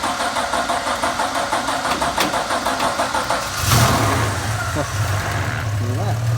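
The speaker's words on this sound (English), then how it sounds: "So is the starter going to engage?" A VH Valiant Charger's starter cranks in a steady rapid churn, then the engine catches and settles into a rough idle, with a voice exclaiming over it.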